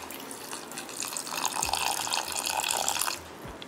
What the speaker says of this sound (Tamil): ஒரு 1/2 டம்ளர் பால் மட்டும் இதில் விட்டுருக்கோம்